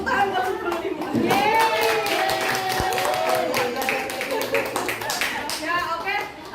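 Students in a chemistry classroom clap their hands together, a short burst of scattered claps mixed with voices and chatter from the room.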